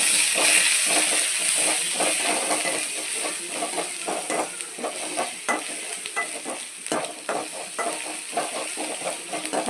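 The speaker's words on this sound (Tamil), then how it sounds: "பச்சை வாசம் போகிற வர நல்லா வதக்கிட்டு" Sliced onions and ginger garlic paste sautéing in a pan, a steady close sizzle and hiss with repeated scraping stirs, no talk.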